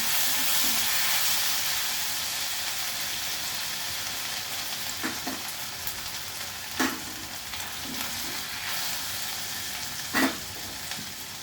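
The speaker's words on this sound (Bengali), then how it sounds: "আদাটা একটু ভাজা হবে।" Ginger fries in oil with mustard seeds in a pan, giving a steady, close hiss of sizzling with occasional soft clicks and taps from stirring.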